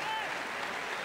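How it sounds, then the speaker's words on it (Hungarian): A stadium crowd at a Ferencváros football match rises in a standing ovation, steady dense applause filling the whole moment with a faint high whistle or cheer above it. "Állva tapsolja a közönség Dragoner Attilát."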